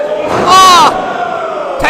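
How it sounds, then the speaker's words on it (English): Crowd at a Phoenix Wrestling match roars and cheers loudly in a big swell that peaks briefly, then settles into steady background noise, with a voice carrying over the top. "this crowd? cheering you on"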